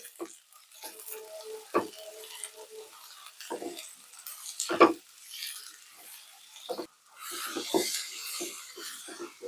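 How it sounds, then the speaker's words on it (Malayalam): Onions with green chillies sautéing in a pan for Kerala crab curry give a faint sizzle, interrupted by a few sharp scrapes and clatters of the spoon against the pan. "സവാളയൊന്ന് ചെറുതായിട്ടൊന്ന് വഴന്നു വരട്ടെ"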